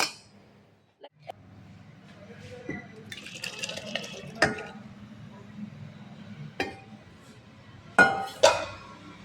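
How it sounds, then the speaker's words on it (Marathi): Glass jar clinks and taps as homemade fasting lemon pickle is spooned in, a handful of sharp knocks scattered over soft kitchen background, with a voice talking at times. "आता आपण हे लोणचं काढून बरणीत थोडंसं थंड झाल्यानंतर भरून झाकून ठेवायचं."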